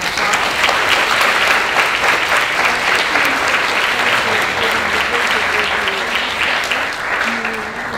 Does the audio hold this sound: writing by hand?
no